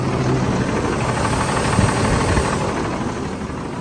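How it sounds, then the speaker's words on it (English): The Cummins diesel engine of a 2015 Freightliner flatbed truck idles close by with a steady low rumble and faint knocking rhythm, continuous and unchanging throughout. "Got a nice Cummins engine in it."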